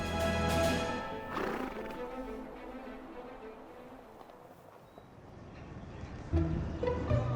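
Horses in Cappadocia, Turkey, neigh loudly and whinny near the start, then hooves clip-clop steadily beneath the continuing calls, with another close whinny near the end.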